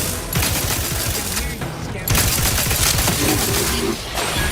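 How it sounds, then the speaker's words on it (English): Gunfire from a weapon in The Outer Worlds 2 video game, a loud dense stream of rapid shots that breaks briefly and then starts again, mixed with game effects. "I pulled the trigger for like a second and killed all of them."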